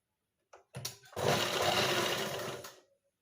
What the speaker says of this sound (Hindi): 1/2 इंच का मार्जिन लेते हुए ही आपको स्टिच करना है और जहाँ पर भी आपका राउंड शेप है वहाँ पर आपको राउंड में ही स्टिच करना है